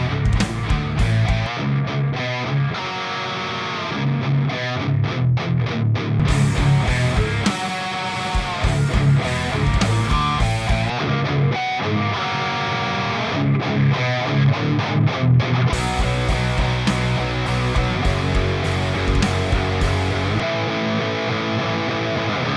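Heavy distorted electric guitar through a Bogner Ecstasy tube amp, chugging palm-muted riffs broken by sustained chords and short stops, loud, close and steady with no voices.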